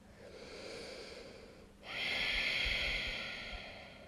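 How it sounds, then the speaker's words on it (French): Ujjayi yoga breath exhaled through the nose with a slight throat constriction, a soft airy rush that swells suddenly midway and holds steady, close and alone without talk. "Commence à mettre en place ta respiration Ujjayi, inspire, expire par le nez."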